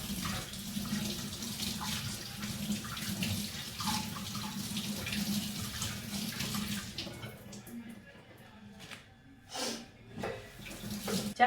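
Water from a kitchen tap runs steadily over a money plant cutting as it is rinsed, a close splashing flow that thins out and turns into scattered drips and gurgles near the end.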